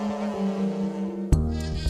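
A bumblebee on a flower in a tropical rainforest vibrates its whole body, giving a steady close-up insect buzz that jumps to a louder, higher-pitched burst partway through.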